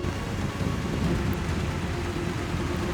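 Rain falls steadily outdoors during a thunderstorm at a mural painting site, a dense continuous hiss with deep low rumbling beneath, even and unbroken.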